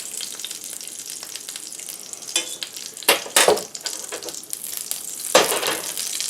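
Melting fat sizzling steadily in a very hot pan, a bright crackling hiss with several louder bursts of spattering and stirring scrapes, with no talking.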